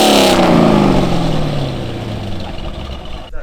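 A 2003 Chevrolet Corvette C5 Z06 engine is blipped loud and close, its roar dropping steadily in pitch as the revs fall back toward idle.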